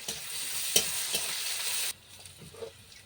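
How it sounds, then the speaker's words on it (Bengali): Crushed garlic and dried chili frying in hot oil, a dense steady sizzle for about two seconds with a stirring clatter near the start, then cutting to quieter faint kitchen sounds. "গরম হয়ে গেছে এই তেলের মধ্যে দিয়ে দিলাম রসুন থেতো করে রেখেছি"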